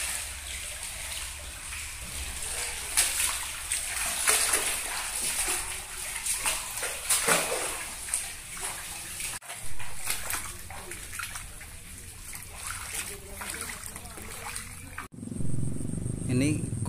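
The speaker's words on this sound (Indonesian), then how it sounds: "air tetap masih mengalir dari sungai" River water trickles and sloshes through soft, deep mud on a low-lying road, with splashing and wet movement nearby while a person talks over it throughout.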